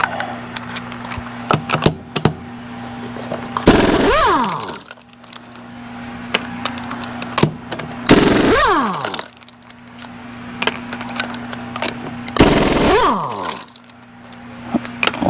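Wheel lug nuts come off in three bursts of loud, ratcheting impact-wrench whine, each rising and falling, separated by quieter clinks of metal tools and small handling noises.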